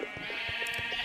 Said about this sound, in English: Lambs, cows. Look at that.